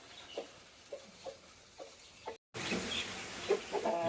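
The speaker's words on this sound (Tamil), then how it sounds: "கின்னி கோழி உள்ளார வந்துடுச்சு, கின்னி கோழிலாம் உள்ளார வந்துடுச்சு" Guinea fowl call as they come inside out of the rain on a farm, with several short clucks spaced apart at first, then a busier patch of overlapping calls over a soft rain-like hiss.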